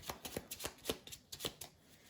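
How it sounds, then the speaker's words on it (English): A deck of cards for the Marvel Champions card game is riffle-shuffled up close. Brisk, rhythmic ruffling bursts repeat steadily, with no talking. "Shuffling the villain deck."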